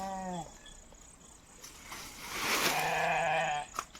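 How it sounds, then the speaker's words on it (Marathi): A goat bleats outdoors on a rural farm: one short wavering call, a pause, then a longer, louder bleat, close by over faint insect chirping. "बकरी आली काय?"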